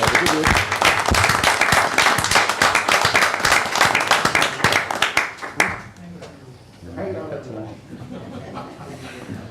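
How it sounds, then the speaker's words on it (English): Attendees at a Mount Airy town council meeting give a round of applause, loud rapid clapping with some chuckling that fades after about six seconds into quieter talk and room noise. "Let's give Dick a round of applause"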